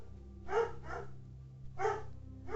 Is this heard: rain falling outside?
no